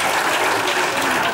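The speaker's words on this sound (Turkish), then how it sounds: "Alkışlayan ellerinize sağlık." A studio audience claps steadily in loud, dense applause that holds the whole time, with no voices heard.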